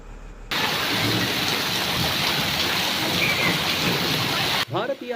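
A heavy downpour with hail pounds down in Kalghatgi, a loud, dense, continuous drumming roar close by that starts abruptly. A brief voice comes in just as it cuts off.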